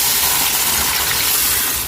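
Water poured into a pot of country chicken curry with large chicken pieces makes a dense, steady rushing hiss, loud and close, lasting just under two seconds with no voices.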